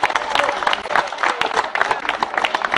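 An indoor audience gives brisk, sustained applause after thanks from a speaker at a public event, with many overlapping hand claps at a fairly close, even level.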